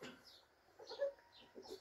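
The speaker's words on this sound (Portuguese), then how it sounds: "pra mostrar um frango pra vocês aqui" A rooster clucking softly at close range, a few faint, short calls with quiet gaps between them.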